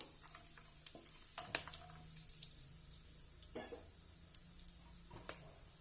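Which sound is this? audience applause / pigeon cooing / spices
spices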